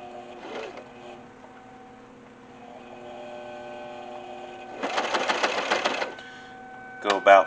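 A sewing machine stitches a leather vest in a short, rapid burst of mechanical chattering lasting about a second, set against a steady electrical hum, with brief clunks before and after.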